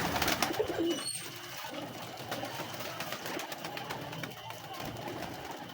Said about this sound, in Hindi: बड़ी पक्की आइस के कबूतर हैं माशाल्लाह